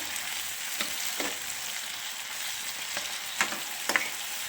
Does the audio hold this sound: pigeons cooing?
no